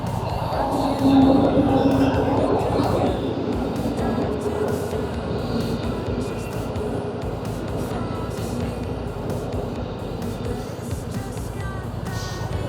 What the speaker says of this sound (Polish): Jedzie pociąg Intercity.